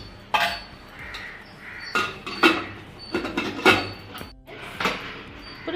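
A metal lid set onto a pressure cooker holding moringa leaf and green tomato dal, giving several sharp clinks and clatters of metal on metal at close range, with short pauses between them and no talk.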